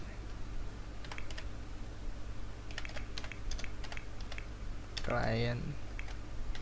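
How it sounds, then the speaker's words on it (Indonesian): Keys on a computer keyboard tap in short bursts of light clicks over a constant low hum. Someone speaks a single word briefly near the end, then the room hum carries on. "Ngetik UI lagi"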